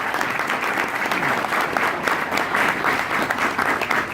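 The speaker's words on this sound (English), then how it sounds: "Can we just give him a round of applause?" Attendees at a technical talk on distributed services applaud the speaker in a steady, even wash of clapping from a medium-sized crowd, continuous throughout with no clear voices.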